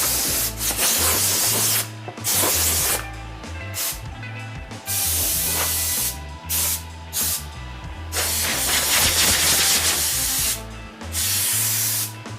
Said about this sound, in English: And the rest will get with sandpaper.